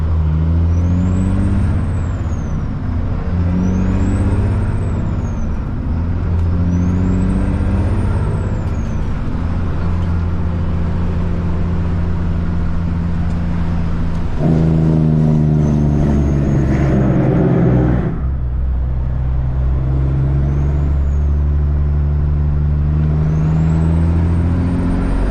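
A loud truck with a Cat C-15 diesel engine drones heavily while driving on a forklift mast delivery run, a steady low rumble with rising and falling revs and whining tones, close inside the cab.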